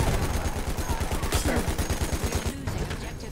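Sustained automatic gunfire sprayed in Battlefield 1, a dense rapid stream of shots running the whole time, loud and close, with battle noise around it and no clear talk.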